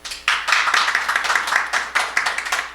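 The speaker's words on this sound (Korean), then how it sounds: "선생님들 이렇게 박수를 쳐주시는 모습이 이렇게 실시간으로 보이니까 너무 새롭습니다" Teachers clap together on a live online video call during a policy forum, a dense, continuous patter of many hands close to the mic with no one speaking.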